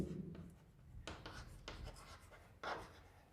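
A marker squeaks and scratches across a whiteboard during a chemistry lecture on states of matter, making several short, faint strokes with small pauses between them in a quiet room.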